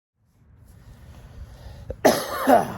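Following a quiet, rustling lead-in, a man gives a sudden throaty cough, then a second rough cough-like burst close to the microphone.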